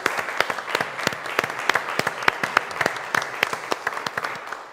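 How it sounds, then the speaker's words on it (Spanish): Church congregation at Sunday Mass applauding, distinct claps rattling steadily throughout at moderate distance in a reverberant space. "Un aplauso grande a nuestro Dios."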